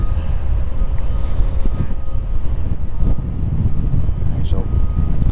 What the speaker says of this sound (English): It's a bit chilly today, very windy.